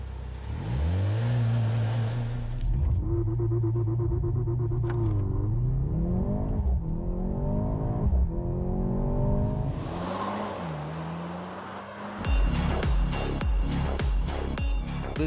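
A Mercedes C43 with a 4-cylinder engine and electric turbo assistance accelerates hard, its engine note climbing through several gear changes with a steady loud roar that ends in a sharper burst of revving.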